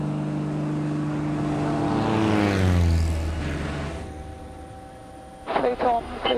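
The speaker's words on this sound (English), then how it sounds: "They said power up, so I pushed the throttle back in and pushed the stick back." A light propeller aircraft's engine drones loudly and rises in pitch as power comes up during a go-around, then eases off, followed by brief crackly radio or cockpit sounds near the end.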